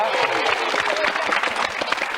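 Dense applause from a studio audience on a 1992 French children's TV show, steady and fairly loud throughout, with a voice faintly audible underneath.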